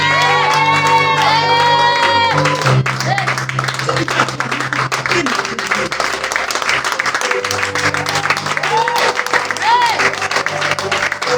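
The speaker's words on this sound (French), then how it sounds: "On acclame le Seigneur. Acclamez bien. Acclamez bien." A church congregation applauds loudly and continuously at a Sunday service, the dense clapping mixed with cheers and whoops while a voice and music carry over it.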